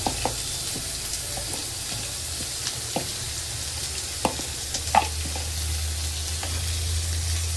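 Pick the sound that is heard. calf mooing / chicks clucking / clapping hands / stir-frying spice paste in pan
stir-frying spice paste in pan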